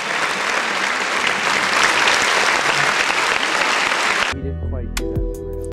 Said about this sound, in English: Everybody should clap.